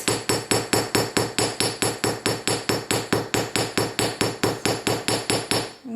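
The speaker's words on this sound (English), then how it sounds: "I've got my steel block and I have my steel hammer head. And what I'm going to do is just lightly hammer this." A steel hammer lightly strikes metal resting on a steel block, giving about two dozen evenly spaced, ringing metallic taps in a steady rhythm, close and loud, with no talking.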